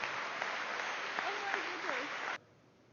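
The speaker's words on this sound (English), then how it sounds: "Give her a big round of applause for her help." Broad applause from a mentalist show audience sounds steadily, with a voice speaking over it, then stops abruptly near the end, leaving quiet room tone.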